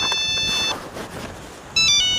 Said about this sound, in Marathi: फोन कोणाचा आला